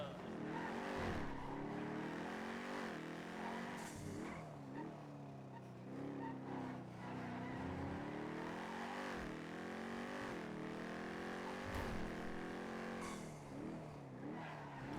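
Car driving in the NoPixel GTA video game, an engine revving and surging with pitch rising and falling and brief tyre-skid bursts, loud and continuous.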